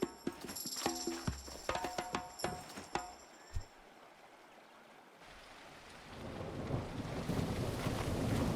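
Rain and a low thunder rumble in the survival building game Tribe: Primitive Builder follow a run of sharp clopping and clicking effects, then a steady hiss of rainfall swells and stays loud to the end.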